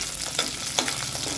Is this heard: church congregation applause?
no